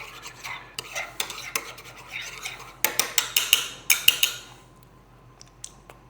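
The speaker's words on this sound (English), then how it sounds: "and just give that a little stir." Spoon stirring salt into a dip in a bowl, with a run of close, fairly loud scraping and clinking strokes in quick rhythm that fade into quieter taps.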